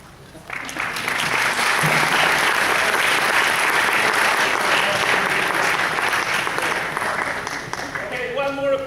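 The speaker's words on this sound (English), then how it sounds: "Okay, one more applause for our..." Sustained audience applause at a university event with Nobel laureates, dense clapping swelling in quickly and holding steady, with a voice starting to speak near the end.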